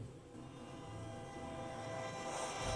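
A train in a horror video game rumbles steadily throughout, a continuous low mechanical drone with a faint hiss that swells slightly toward the end, with no voices.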